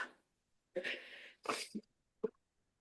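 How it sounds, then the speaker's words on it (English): A few short, breathy blasts of air through the nose, separated by brief pauses, close and fairly quiet. "do not blow your nose on random socks"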